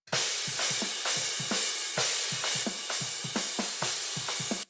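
Steady cymbal wash on room and overhead mics with rhythmic drum hits underneath in an emo/hard rock drum mix, bright and spacious with a roomy, distant character, playing continuously before cutting off.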